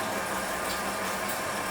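The motor of a lightweight folding electric bicycle whirs steadily while the pedals turn, a continuous even hum with some vibration for under two seconds.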